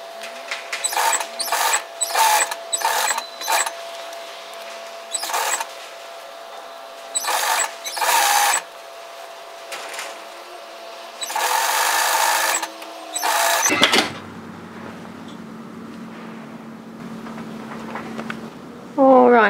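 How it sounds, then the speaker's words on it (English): A sewing machine runs a holding stitch within a seam allowance on a sun hat, in a string of short, close bursts of rapid stitching that stop and start, separated by pauses with a quiet voice talking. "So we just put a holding stitch within the seam allowance."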